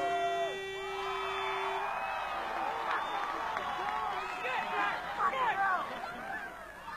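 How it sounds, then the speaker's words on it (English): A noisy Westlake crowd at a schoolboy rugby match, a busy babble of shouts, whoops and cheering from many spectators, with someone speaking over it. "Despite a very noisy Westlake crowd, Merrick adds 2 points."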